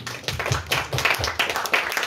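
An audience claps for a young author at a literary conference, a burst of scattered hand claps from a modest crowd that stays fairly loud for about two seconds.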